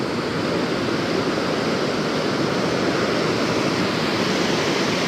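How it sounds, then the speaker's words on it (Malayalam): Water released from the dam shutters at Vani Vilas Sagar Dam makes a constant, dense roaring rush, steady and even throughout with no voices. "ഇത് ഷട്ടറിൽ നിന്ന് തുറന്നു വിടുന്ന വെള്ളമാണെന്ന് തോന്നുന്നു കേട്ടോ."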